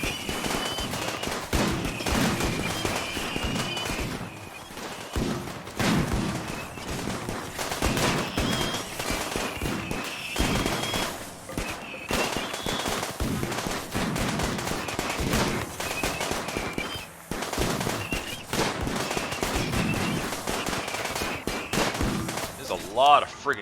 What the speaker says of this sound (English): A lot of friggin' gunfire.